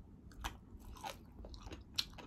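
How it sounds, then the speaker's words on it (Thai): Braised pig ear with cartilage is crunched in quiet close-up bites, a handful of crisp cracks and chewing sounds spread irregularly over a couple of seconds. "หูหมูมันสิกรุบๆได้ล่ะมันสิกรุบๆ"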